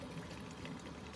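Steady rushing flow of water from an opened kitchen sink faucet set to the middle between hot and cold in a camping trailer, continuous and fairly close, with no talking.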